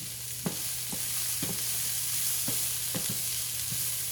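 Ground meat for chili fries in a pan with a steady close hiss, cut by regular scraping stirs roughly every half second, a low hum underneath and no voices.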